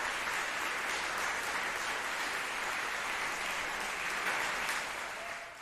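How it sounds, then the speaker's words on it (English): A crowd claps steadily in dense, continuous applause that holds at an even level before easing off slightly at the end. "So you got a bunch of white people clapping"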